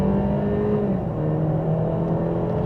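A 2024 Mercedes E350 with a 2-liter turbo engine pulls at about half throttle in sport mode, its steady engine drone rising slightly in pitch as the car gains speed, heard from inside the cabin with no talking.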